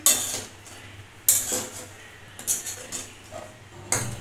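A spoon stirs a sago mixture with coriander leaves in a bowl, making a few sharp, close clinks against the bowl spaced irregularly over a quiet background.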